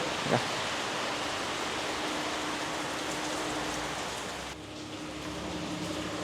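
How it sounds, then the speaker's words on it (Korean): Steady rain falling outdoors at a café building site in Vietnam, a broad, even hiss that holds throughout with a faint steady hum beneath and a slight drop in level near the end. "비가 또 시원하게 옵니다"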